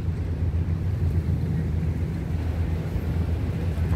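Strong seaside wind buffets the microphone on a Hong Kong shore, a continuous low rumbling roar that stays steady throughout with no voices.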